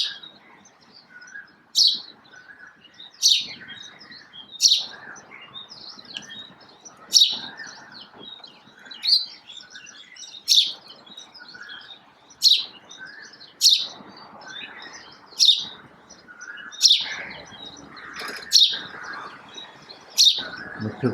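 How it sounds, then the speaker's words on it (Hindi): House sparrows chirp repeatedly and clearly, with bright sharp calls at a steady rhythm over a quiet background. "इधर मिट्ठू आवाज़ लगा रहा है और उधर बादाम आवाज़ लगा रहा है"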